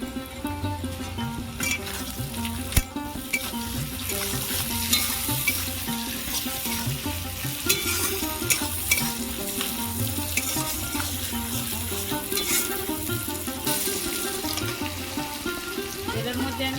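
Chopped tomato hits fried onion in a hot pan and sizzles loudly and continuously up close. A spatula stirs and scrapes against the pan at intervals.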